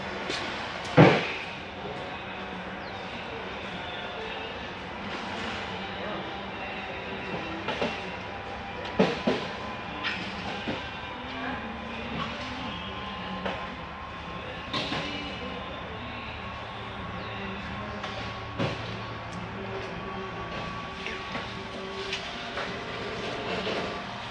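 The slide-out motor on a Catalina Expedition 192FQC RV extends the room with a long, steady mechanical drone and hum, broken by scattered clicks and knocks as the slide travels outward.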